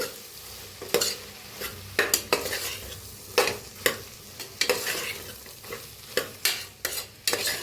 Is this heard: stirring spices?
yes